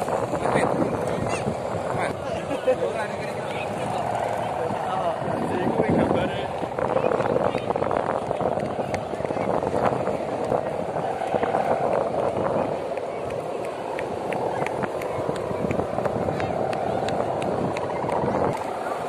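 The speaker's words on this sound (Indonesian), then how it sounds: "Anginnya sudah mulai mengamuk, badai keluar." Strong wind gusts roar and buffet the microphone continuously while a large Banyuwangi-style kite is flown outdoors, a loud, rough rushing noise with people talking underneath.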